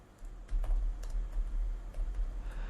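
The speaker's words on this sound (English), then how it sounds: "Forgive me, multitasking and typing here." Steady typing on a computer keyboard during a sports talk show, a continuous run of close, light clicks and taps with no voices.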